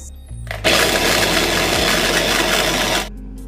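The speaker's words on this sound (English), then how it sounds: "We're gonna blend the rest of the onions and the locust beans together" An electric blender whirs loudly for about two and a half seconds, blending onions and locust beans for okra soup. It runs as a steady, harsh roar that cuts off abruptly.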